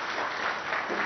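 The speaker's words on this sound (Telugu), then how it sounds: "చప్పట్లతో ధన్యవాదాలు చెప్పాలని కోరుతూ" An audience at a public event where a state minister speaks applauds in thanks, a brief, steady wash of clapping at moderate loudness, with no voices over it.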